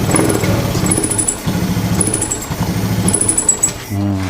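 A Honda Scoopy scooter with a sputtering, hesitant pull-away fault revs in uneven, pulsing bursts when throttled, then the engine note breaks off abruptly near the end. The sound is close and loud.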